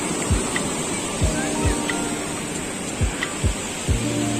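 A flowing stream near a small waterfall fills the scene with a steady, broad rushing wash, punctuated by occasional dull low thumps.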